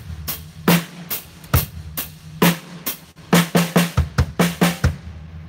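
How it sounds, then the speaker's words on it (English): A drum kit plays a 3 over 2 then 2 over 1 phrase, sharp hits spaced unevenly at first and then bunching into a quicker, regular run of strokes, close and loud with no talking. "if I'm going to play a 3 over 2 and a 2 over 1, it's going to sound like this."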